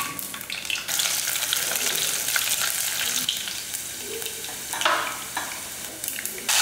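Garlic and curry leaves frying in hot oil with cumin while cooking a Tamil kuzhambu, a loud continuous sizzle with bursts of spitting and stirring, no voices.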